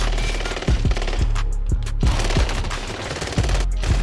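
Rapid bursts of automatic gunfire in the Warzone video game on Rebirth Island, close and loud, with several sharp cracking shots in quick succession over a steady background rumble.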